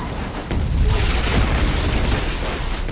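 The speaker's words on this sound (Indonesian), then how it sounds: "Salah satu pesawat bahkan jatuh dan meledak tak jauh dari rumah mereka." A military plane crashes and explodes in a film scene, a loud sudden boom swelling into a sustained roaring, crackling blast that fills the whole moment.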